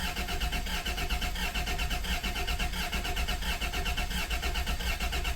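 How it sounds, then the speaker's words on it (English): A 1991 Dodge Caravan engine cranks over continuously after years of sitting, a loud, even, rhythmic churning of the starter with no talking. "Sounds okay cranking over."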